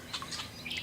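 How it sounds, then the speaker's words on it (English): Agitated birds chirp and call around a swamp, brief high tweets scattered over a quiet background, moderately near. "all these birds that are all pissed off that I'm here"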